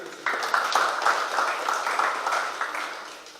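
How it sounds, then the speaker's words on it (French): Audience applause fills a hall at a formal ceremony, a steady dense patter of many hands that swells early and continues evenly throughout at moderate loudness. "Merci, on peut l'applaudir."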